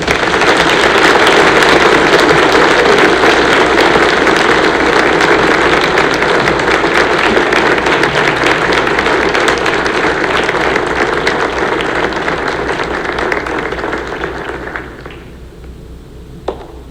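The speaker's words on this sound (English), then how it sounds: "Please give these ladies a applause." Audience at a high school band concert applauding in a dense, loud, steady wash of clapping that thins and fades out near the end.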